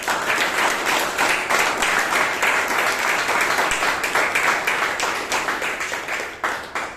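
A round of applause at a Toastmasters club meeting in Bangalore for a speaker and evaluator, with dense, rhythmic clapping holding steady and then thinning out toward the end.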